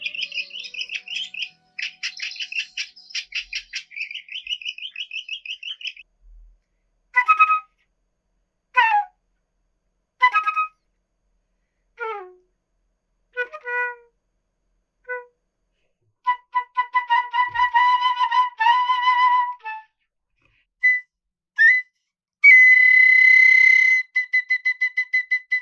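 A flute imitating bird songs: bursts of rapid high trills, then spaced single chirping notes with pauses between, building into fast repeated warbling phrases and ending on sustained trilled tones, clear and close with no talking.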